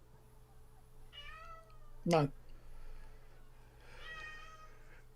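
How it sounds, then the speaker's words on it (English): A cat meows from a phone video played aloud: a single loud, drawn-out meow in the middle of the clip, with people talking quietly before and after it. "Oh, the cat."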